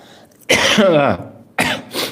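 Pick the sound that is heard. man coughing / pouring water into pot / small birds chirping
man coughing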